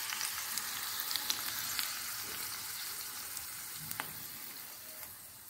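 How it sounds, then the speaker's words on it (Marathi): Hot tadka tempering is poured over a pot of chole, and it sizzles loudly and steadily up close, easing off gradually, with a few sharp spits and crackles scattered through. "आता हा तड़का आपण याच्यावर टाकून घेऊ।"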